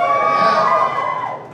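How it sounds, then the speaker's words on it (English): Women in a comedy club audience cheer and whoop in a dense, high-pitched burst of crowd noise that holds steady, then fades toward the end. "It's always nice when it's the women cheering."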